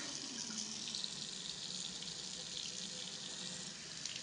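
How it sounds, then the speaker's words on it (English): A bathroom sink faucet runs steadily for the whole stretch, a continuous close hiss of water pouring into the basin with no pauses and no talking. "Now I'm going to turn on the sink."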